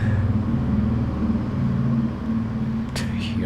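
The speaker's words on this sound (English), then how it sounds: "To hear a very loud car grumbling outside." A loud car grumbles outside in the 1998 PlayStation game Mizzurna Falls, a steady low rumbling drone that holds for several seconds, with a brief higher chirp near the end.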